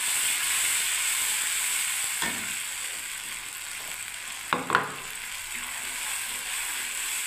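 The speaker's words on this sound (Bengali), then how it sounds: "এবার আমি এই তেলের মধ্যেই বন্ধুরা আমি টমেটোটাকে ছেড়ে দিচ্ছি" Tomato sliding into hot oil for a Bengali niramish ghinge (ridge gourd) curry, giving a steady sizzle with two sharp splashy bursts partway through.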